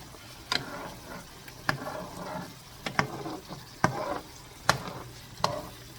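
Egg scrambles in a pan for pad thai with spatula or spoon stirring and scraping, sharp clicks recurring about once a second over a soft steady sizzle.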